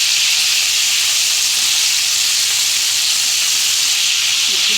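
Sausage searing in hot oil in a pan gives a steady, loud, broadband sizzling hiss that holds constant throughout, with no talk over it.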